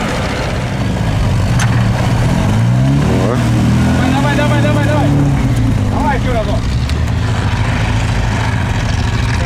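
GAZ 69 off-road vehicle pulling an Opel out of a rut, engine loudly revving with rising and falling pitch over steady rumble, with people talking over it.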